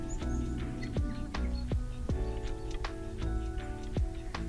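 Birds call in the quiet English countryside in winter, a string of faint, distant short chirps repeating every second or so over a soft, steady background hum.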